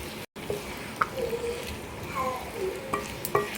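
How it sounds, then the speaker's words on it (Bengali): Spices sautéing in a pan for bottle gourd prawn curry make a low continuous sizzle with occasional stirring scrapes and light taps, close and fairly quiet. "এখন আমি মশলাগুলোকে সব ভালো করে কষিয়ে নেব"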